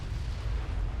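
Naval guns fire shells in the warship game Ultimate Admiral: Dreadnoughts, heard as a deep rumbling boom that fills the short moment without any voices.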